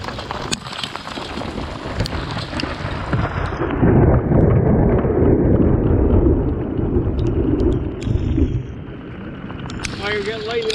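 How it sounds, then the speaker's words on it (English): Thunder from a lightning storm over the Canadian wilderness during a canoe camping trip, a long deep rumble swelling and fading in the distance, with brief spoken exclamations nearby. "Oh, you're getting lightning."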